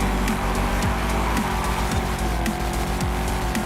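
A race car engine in the Forza Horizon 5 video game roars loud and steady throughout, its tone rising and dipping slightly as the revs shift, with no voices over it.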